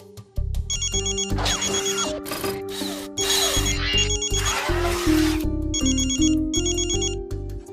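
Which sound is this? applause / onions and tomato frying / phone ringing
phone ringing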